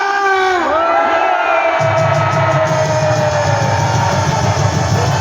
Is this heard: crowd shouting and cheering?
yes